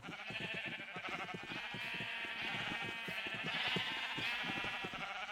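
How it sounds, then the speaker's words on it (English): Sheep in the Minecraft video game bleat repeatedly in a steady, overlapping chorus, several animals calling close by at a loud, even level with no talk. "There's a bunch of white sheep everywhere here."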